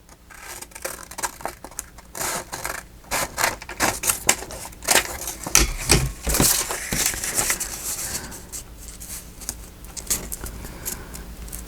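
Paper being cut for a craft pocket project, a close series of crisp snipping and rustling bursts in an irregular rhythm, loud and alone without talk.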